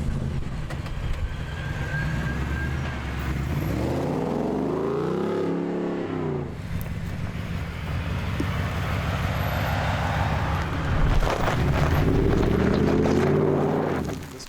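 A restored and modified 1972 Ford Bronco drives along, its engine rumbling steadily and rising in pitch as it accelerates, loud and close throughout with no talking.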